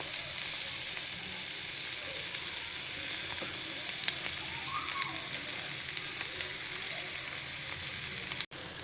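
Paneer cubes frying in a pan with light masala, a dense steady sizzle and crackle running throughout, close and fairly loud, with occasional faint stirring and a brief sharp knock near the end.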